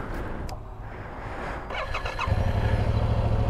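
A Yamaha R7 motorcycle with stock exhaust starts with a brief squeal and then settles into a quiet, low, muted idle, with little rumble.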